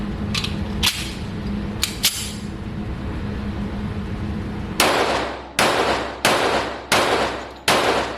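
A Colt Gold Cup Trophy 1911 pistol fires a string of five loud, sharp shots about one second apart, each ringing out briefly, after a few fainter clicks and knocks.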